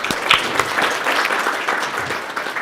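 Steady applause from a conference audience at a health and wellness event fills the room, dense clapping holding at an even level for the whole stretch with no talk over it.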